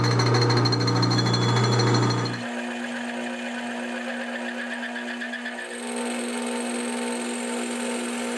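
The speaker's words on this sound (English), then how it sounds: "I'm going to take my drill and I'm going to go 1 inch deep" A machine-driven drill boring a one-inch-deep hole in a workpiece for an airsoft airgun adapter, a loud steady whine and rumble that drops to a quieter, even hum partway through and stays constant.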